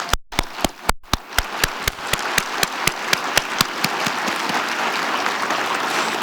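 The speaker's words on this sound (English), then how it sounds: "Please stand so we all can give you a round of applause." Audience applause fills the UN General Assembly Hall during a summit, beginning with a few sharp, evenly spaced claps that quickly swell into dense, sustained clapping from a large crowd.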